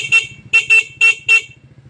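A stock horn on a Yamaha NMAX V1 scooter gives five short, bright beeps in an uneven rhythm, loud and close, with the low idle of the engine running underneath.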